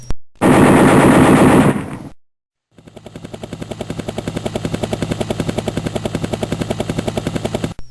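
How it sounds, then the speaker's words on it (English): A loud burst of noise, a brief gap, then the steady rapid chopping of helicopter rotors that grows louder as they approach. "Helicopters coming in from the sea."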